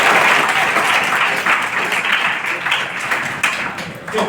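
Schoolchildren in a classroom clap together in a dense, loud burst of applause that holds steady and fades slightly over a few seconds.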